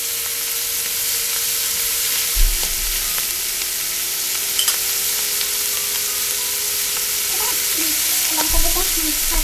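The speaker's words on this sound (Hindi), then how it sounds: "इसे हाई हीट पे ही सौटे करना है ऐसे" Vegetables sizzle on high heat in a pan in a continuous loud hiss, broken by a few knocks and scrapes of stirring, with no talking.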